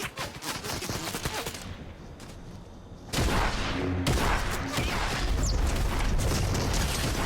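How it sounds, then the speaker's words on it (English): Fortnite gunfire from two players shooting, dense bursts of rapid shots layered with booms, growing louder and fuller partway through and continuing steadily to the end. "Oh, there was two people shooting at me."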